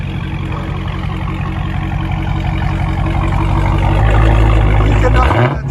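A supercharged 6.2-litre Hemi V8 in a 2020 Dodge Challenger Hellcat with dual exhaust and mid muffler rumbles steadily in eco mode, swelling into a louder, deeper rev near the end before dropping sharply; voices talk over it.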